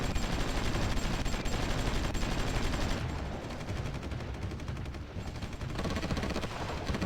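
Infantry gunfire crackles in the strategy game Supreme Ruler Ultimate, a continuous stream of loud, overlapping shots and bursts filling the whole passage without speech.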